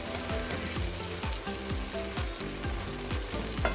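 Ginger garlic paste frying in a pan for Irani keema, a steady close crackling sizzle with repeated soft stirring scrapes, continuous and fairly loud throughout.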